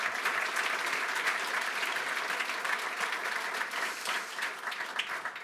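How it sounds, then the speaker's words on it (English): A conference talk audience gives steady applause, a dense wash of clapping from a crowd that holds at an even level throughout and fades slightly at the end. "I want to applaud the organization"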